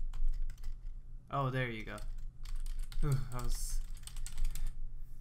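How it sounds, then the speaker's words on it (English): Rapid, light clicking of a computer keyboard used to play a football video game, carrying on steadily under a voice as he talks. "I'm using my keyboard rather than my controller"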